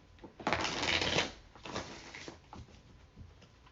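Tarot cards riffle and flutter in a quick shuffle, followed by softer taps and shuffling as the deck is squared up, close by and without talking.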